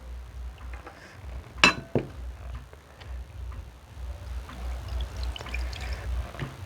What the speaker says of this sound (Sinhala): මේකට අපි කිරි ටිකත් එකතු කරලා දිය කරගමු.